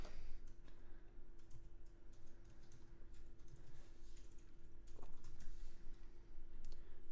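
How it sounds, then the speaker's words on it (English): Typing on a compact Cooler Master CM Storm Quickfire mechanical keyboard without a numpad, with steady quiet clicks at a continuous rhythm over a low background hum. "Keyboard I'm using is called CM Storm by Cooler Master Quickfire."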